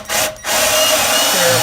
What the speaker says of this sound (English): Take your drill bit about an inch up, let's say, into your baseboard, and drill it at an angle, like a 45 or so.